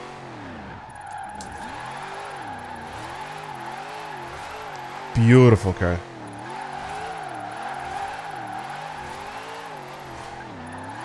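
A Dodge Charger in Forza Horizon 4 growls and revs as it slides sideways, a short sharp burst of squeal and engine bark cutting through a steady rumbling drone, with someone talking over it.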